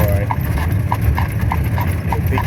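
A horse heading home with steady, even clip-clop hoofbeats over a constant low rumble of movement, with no voices.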